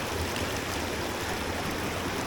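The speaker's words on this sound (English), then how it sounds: "Water is running really good too." A small woodland brook holding brook trout runs steadily, its continuous babbling and trickling water filling the whole stretch at an even level with no other sounds.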